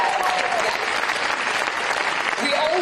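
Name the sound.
audience applause for Jacinda Ardern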